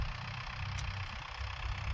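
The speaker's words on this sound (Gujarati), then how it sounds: "આજે જો ટ્રેક્ટરથી ચણાનું વાવેતર કરવામાં આવ્યું" A tractor sowing chickpeas in a field runs with a low, steady engine rumble, fairly quiet and unbroken, with no voices.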